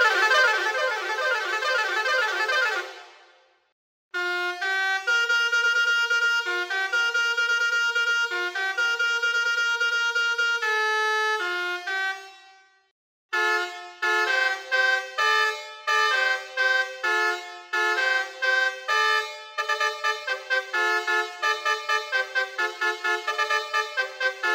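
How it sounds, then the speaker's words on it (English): Basuri Baby Shark 4.0 air horns play a series of loud musical tone sequences, first sustained melodic phrases with a brief gap, then rapid repeated staccato honks in a steady rhythm, alone without talk. "We're now going to show you some tones you can expect to find on these air horns."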